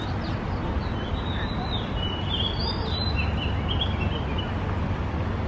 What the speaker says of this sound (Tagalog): Naririnig niyo ba yung mga ibon?